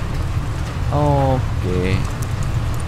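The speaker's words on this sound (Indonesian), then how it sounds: "Hujan kayaknya di dalam gamenya." Steady rain falls in the survival game Obenseuer as a continuous low hiss, with someone briefly speaking over it.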